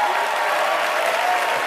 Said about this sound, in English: let's look around and give them a round of applause